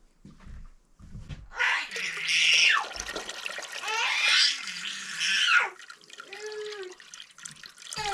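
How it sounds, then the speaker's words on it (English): Water poured in steady bursts into a container outdoors in an Alaskan backyard, a running, splashing flow that rises and pauses a few times, fairly close, with no talk over it. "We need to add some more water."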